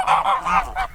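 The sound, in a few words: geese honking in a vineyard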